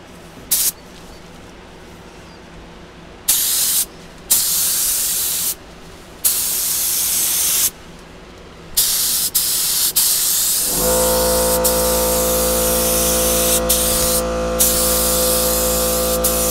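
A cheap Harbor Freight HVLP spray gun lays 2K clear coat on a headlight during restoration, firing in several loud hissing bursts with short gaps before a long sustained spray that ends in a steady compressor-like hum.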